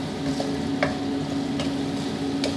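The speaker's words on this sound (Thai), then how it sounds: "เราต้องค่อยๆเจียวเพื่อที่จะไล่เอาความชื้นออกจากตัวหอมครับ" Shallots fry slowly in hot oil for crispy fried shallots, giving a steady, close sizzle throughout with a few soft clicks of stirring spaced out over the seconds.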